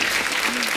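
A studio audience on The Kapil Sharma Show breaks into a short, loud burst of applause, a dense wash of clapping with faint voices mixed in.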